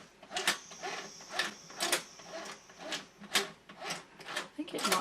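A vintage Singer toy sewing machine cranked by hand without its handle gives a quick series of rhythmic mechanical clatters and ticks, close and moderately quiet, with small whirring between beats.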